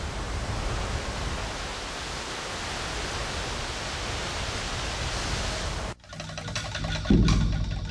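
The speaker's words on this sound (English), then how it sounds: "The leaves of a bamboo thicket near a village rustle softly in the breeze." Leaves of a bamboo thicket near a village rustle in the breeze as a broad, steady hiss for about six seconds, then give way abruptly to a different, more tonal sound.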